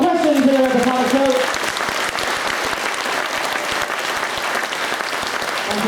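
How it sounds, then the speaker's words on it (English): An audience at a motorcycle racing paddock show at Donington Park applauds in a dense, sustained burst of clapping, with a voice speaking at the start before the applause carries on alone. "Round of applause, please, for our questions here at the Paddock Show."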